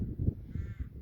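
Rooks caw on a farm track walk near Woodhouse Eaves in Leicestershire, a few faint, rough calls over low rumbling background noise.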